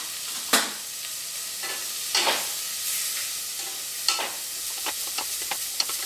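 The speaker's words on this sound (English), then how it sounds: "So give it a stir just for a short time to sweat it." Chopped vegetables with coriander powder sweat in a pot for carrot coriander soup, a steady low sizzle broken by several sharp spoon scrapes and knocks as they are stirred, close by and with no talking.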